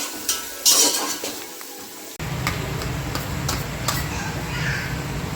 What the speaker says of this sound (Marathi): कांदा मस्त असा लाल होऊन देऊया थोडासा